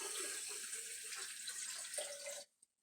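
Fresh filtered water pours steadily from a tap into sprouting jars, a soft continuous rushing splash that cuts off abruptly, leaving a faint drip.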